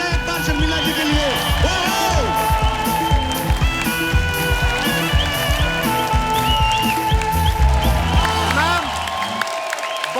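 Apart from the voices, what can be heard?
audience applause and cheering for Sharmila Tagore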